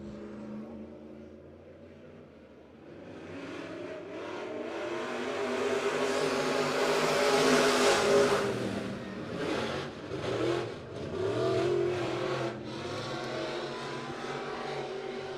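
A pack of USRA B-Mod race cars roars off at the start of a six-lap heat race at a county speedway, engines swelling to a loud, sustained howl with revving surges as the field passes close by.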